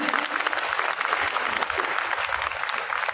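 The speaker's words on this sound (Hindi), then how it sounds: "एक बार ताली बजा के मुझे आदेशित कर दीजिए।" Audience at a Hindi poetry gathering in a school claps together in a loud, dense burst that runs the whole stretch, with faint murmuring among the crowd.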